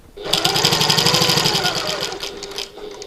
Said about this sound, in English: I'm going to sew along each long edge using my Diddy seam allowance, 1/8 of an inch.